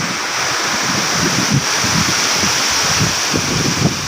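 Waterfall water crashes down steadily at Anaimedu near Tharamangalam, Salem: a loud, continuous rushing roar with no voices over it.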